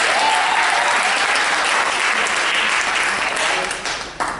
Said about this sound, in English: Give it up for that.